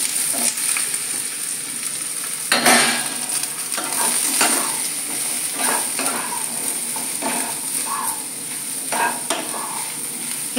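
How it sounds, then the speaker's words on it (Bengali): Eggplant slices fry in a little oil in a nonstick pan over low heat, giving a steady close sizzle broken by several sharper stirring and scraping clatters, with no one talking. "এবার আমি বেগুনগুলো দিয়ে দিলাম।"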